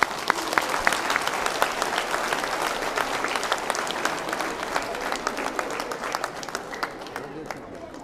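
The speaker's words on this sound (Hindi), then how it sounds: "और अब एक बार जोरदार तालियां बजा लीजिए अपने लिए।" A large seated audience at a motivational talk applauds loudly, dense rapid clapping that runs steadily for several seconds, then thins out toward the end.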